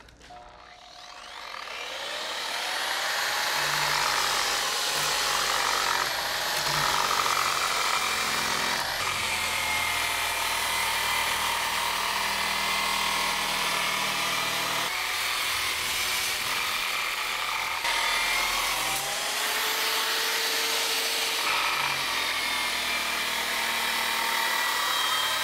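A power tool with a 120 grit pad, running at max speed of about 3,000 rpm, blends a stainless steel mailbox base: a long continuous abrasive whir with grinding hiss, shifting pitch as pressure changes, close and steady, no talk.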